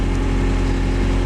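A 1986 Toyota Sprinter Trueno AE86 GT-Apex engine idles steadily at a little over 1,000 rpm, a low, even hum recorded close by with no voices.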